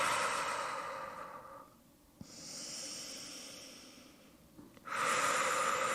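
Deep breathing during a Pilates exercise: long, airy exhales and inhales rise and fade in slow cycles, close to the mic, with no talk.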